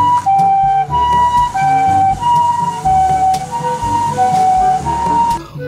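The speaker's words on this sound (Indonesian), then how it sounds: "Ini ada mobil ambulan." A toy ambulance plays a loud electronic siren in a steady two-tone alternating wail that repeats close up for several seconds without talk.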